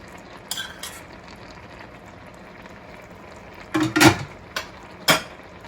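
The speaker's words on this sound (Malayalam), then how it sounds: "നേരത്തെ നമ്മൾ എണ്ണയിൽ ചൂടാക്കി വെച്ചിരിക്കുന്ന ടൊമാറ്റോ കൂടെ ചേർക്കും." Oil-warmed tomato tipped into a pan and stirred for an egg and green peas masala, heard as a quiet kitchen bed broken by a few short scraping, clattering stirs near the end.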